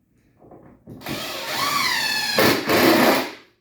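Screws are driven into a small-shop mobile workbench by a power drill. Soft handling knocks lead into one long whirring, rising run of the drill and then a second short burst.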